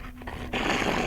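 A pet dog gives a short, low growling rumble up close, followed by a burst of broader rough noise.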